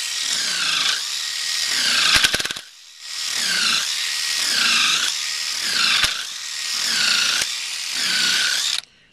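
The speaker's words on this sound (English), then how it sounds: "I push it forward and it cuts" A rotary carver with a 1/4-inch hex shank cuts into wood, making loud, gritty, whirring bursts that repeat in several passes, with brief pauses and a few sharp clicks between them.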